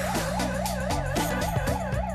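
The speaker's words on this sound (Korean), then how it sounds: "공사장 가득 위험을 알리는 사이렌이 울려 퍼진다." A loud construction-site warning siren at an underground power tunnel project wails in rapid repeating up-and-down sweeps, continuous and close, with a steady low rumble beneath it.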